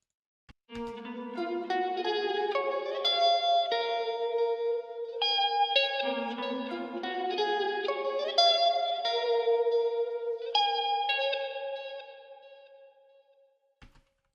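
A clean electric guitar plays a melodic arpeggiated line in an eerie tone, notes ringing out with lush reverb and a long fading tail, no voices.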